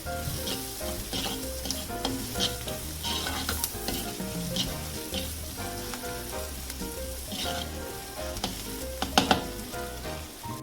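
Onion frying in a pan while being cooked to a golden brown for garlic spinach: continuous loud close sizzle with occasional stirring scrapes and clinks, no voices.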